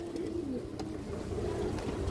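A Sobji male pigeon of an old line coos softly. The low, rolling coo repeats under a steady background hum, and no one speaks.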